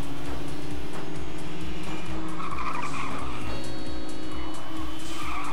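In the top-down game Little Racers Street, cars race with a constant whining engine drone and long squealing tire skids through the turns. The sound is loud and steady, with no pauses.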